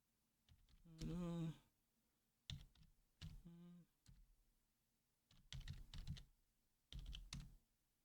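Quick clicks of typing on a computer keyboard at a terminal prompt, faint taps under a man's speech, which dominates the clip in several bursts.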